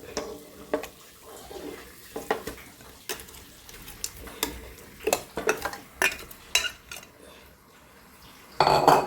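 Chicken pieces stirred into tomato masala in a pan for chicken curry: an irregular run of close spoon scrapes and metallic knocks against the pan over a soft sizzle, growing busier toward the end.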